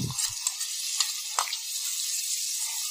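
Onion paste tipped into a hot pan for jackfruit curry, hitting with a brief thump and then a steady, close hiss of frying that carries on alone.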